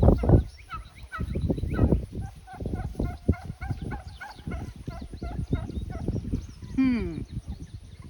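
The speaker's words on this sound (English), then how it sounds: "turkey's waiting for Greg to come back out" A turkey gobbles repeatedly on a small farm with a garden, the calls fairly close and loud, with a strong drawn-out gobble near the end.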